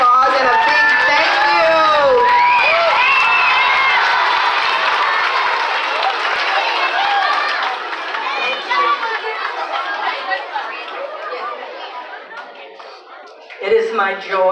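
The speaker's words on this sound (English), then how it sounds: "we can give her a round of applause and a big thank" A school assembly crowd of students cheers, shouts and applauds loudly, with many overlapping young voices that swell, then gradually thin out and fade toward the end.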